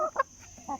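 A chicken gives a few short, soft clucks in quick bursts, close by and alone against a quiet background.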